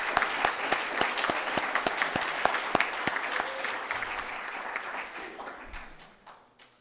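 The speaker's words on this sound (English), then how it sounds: "round of applause" An audience at an Armenian National Committee of America Western Region justice panel claps loudly, with crisp individual claps at first that thin out and fade away toward the end.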